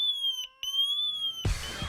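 A wireless home security alarm siren under test sounds a loud, steady electronic tone that cuts out briefly mid-way, then returns and is swamped at the end by a burst of broadband noise.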